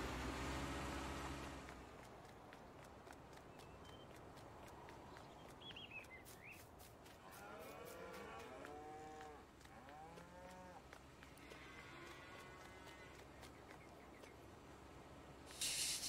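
Cows mooing in a farming video game: several drawn-out moos in the middle, moderately faint over a constant farmyard background, with a brief burst of noise at the start and end.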